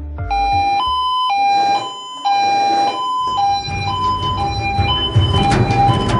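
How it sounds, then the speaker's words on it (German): An emergency pager alarm at a Marburg emergency-doctor station sounds loud alternating electronic tones in a repeating two-pitch pattern, then rising background noise as movement begins. "Der Piepser klingelt, wir starten durch."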